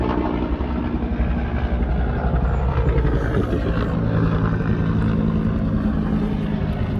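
Helicopter rotor and engine drone heard from a wooded trail area, a steady loud low rumble that holds throughout without any speech.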